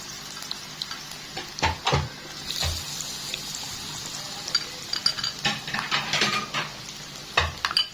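Potatoes being dropped into a pan while making aloo and baingan cutlets, a series of soft irregular thuds and clinks against the pan over a quiet background, with no speech.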